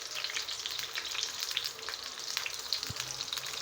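Eggplant slices frying in hot oil for maqluba, a steady dense crackling sizzle close by with occasional stirring knocks, no voices.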